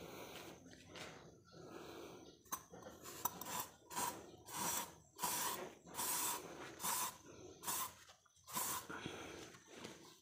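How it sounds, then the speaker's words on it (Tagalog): VS1 protector sprayed from its nozzle, heard as a series of close, hissing spray bursts of varying length, rough and breathy, with faint handling noise between them. "Spray natin."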